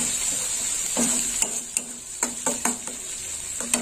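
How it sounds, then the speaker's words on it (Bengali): Spices frying for an elephant foot yam curry, a soft steady sizzle under repeated sharp clinks of a spoon stirring against the pan. "এইরকম ঠিক মশলাগুলো এইভাবে দিতে হবে, ভেজে ভেজে"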